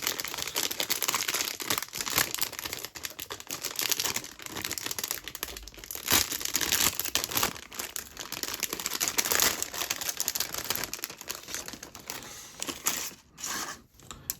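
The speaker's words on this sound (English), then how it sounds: "Right, they're out of the bag. Also, all the rustling stopped now." Plastic bag crinkles and rustles continuously as 1/35 scale Zvezda sniper team model figures are unpacked, close up and busy with crisp crackles and brief pauses.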